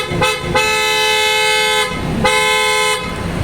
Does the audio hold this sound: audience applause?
no